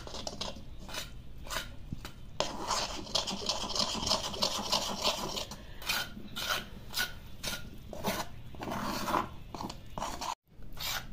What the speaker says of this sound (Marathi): आता बेसन पीठ आणि मसाले एकत्र झाले पावडरचे की त्यात बेता बेताने पाणी घालायचंय आणि हलवून घ्यायचंय।